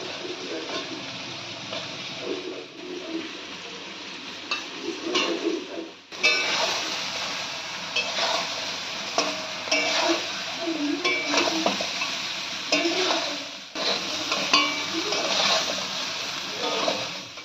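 Soya chunks with turmeric and salt are stirred in a frying pan over a steady sizzle, with repeated scraping and clinking of a utensil against the pan, close and clear.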